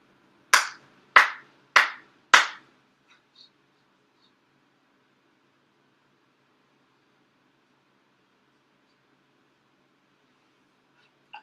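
Four sharp, evenly spaced hand claps ring out at a Shinto-style appreciation prayer service, each with a short decay, followed by near silence and a few faint small sounds.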